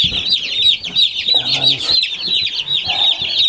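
A flock of fifty young broiler chickens on sawdust bedding keeps up close, continuous high peeping and clucking with overlapping calls throughout.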